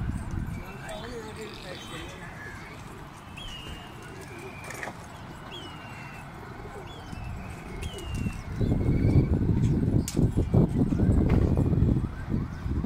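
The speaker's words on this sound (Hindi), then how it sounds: "ये कबूतर उड़ रहे हैं।" A flock of pigeons flies over rooftops during a pigeon-flying contest, with scattered chirps and wing flutter over steady outdoor noise that grows louder and busier toward the end.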